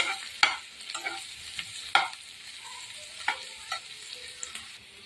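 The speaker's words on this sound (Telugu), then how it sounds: "ఆయిల్ అయితే మరిగింది ఫ్రెండ్స్. ఇప్పుడైతే ఫస్ట్ ఆనియన్స్ వేస్తున్నాను." Onions sizzle and crackle steadily in hot oil for an egg noodle dish, with sharp stirring clicks of a utensil against the pan at irregular intervals. No voices.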